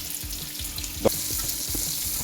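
Onions sizzle steadily in a large hot saucepan, a constant crackling hiss with a single sharper clink of a utensil partway through.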